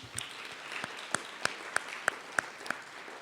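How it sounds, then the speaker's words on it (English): Sparse applause from a small audience at a NEPA training event, with a few distinct, spaced claps standing out over a soft wash of clapping, fairly quiet and with no voices. "So if you can just give them a round of applause for me"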